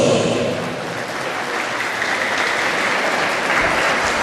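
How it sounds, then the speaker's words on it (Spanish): Applause rings out for the godparents at a school anniversary ceremony in Huari, a steady clapping crowd sustained for several seconds with no talk over it. "Y palmas también para los padrinos."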